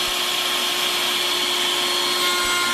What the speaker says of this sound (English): Joining makes a lot of chips, so we're vacuuming right at the cutter.